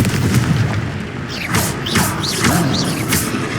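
The Confringo spell in the Hogwarts Legacy video game sets off several booming blasts with whooshing, rising streaks, one after another over a rumbling battle background.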